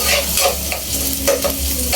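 Garlic and onion sautéing in a pan, a loud close sizzle with rhythmic stirring scrapes of a utensil across the pan.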